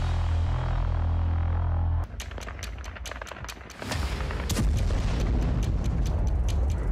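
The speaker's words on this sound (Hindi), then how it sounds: "ड्रोन के ओझल होते ही जोरदार धमाका होता है।" Explosion from a kamikaze drone striking an airfield: a sudden loud burst cuts in about two seconds in, then sustained rumbling, crackling blast noise with sharp bangs continues to the end.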